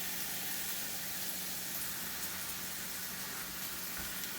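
Food searing in a hot pan gives off a steady, even broadband sizzle and hiss, constant in level throughout with no pauses and no voices.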